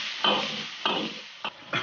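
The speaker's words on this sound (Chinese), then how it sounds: "继续翻炒，尽量用小火来炒，" Whole spices are stir-fried over low heat in a wok with ginger, scallion and doubanjiang for a Chongqing red-broth lamb offal hotpot, making four quiet, brisk scraping tosses with a soft sizzle between them.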